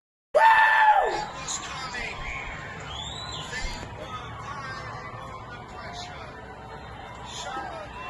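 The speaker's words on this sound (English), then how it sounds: "That entire city was screaming and happy." A city crowd in Mon district celebrating a Konyak football win erupts in a sudden loud scream and cheer, then settles into sustained distant shouting and hubbub.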